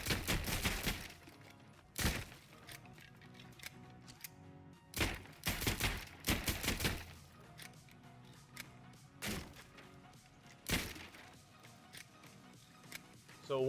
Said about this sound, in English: then you're going to need to destroy these bookshelves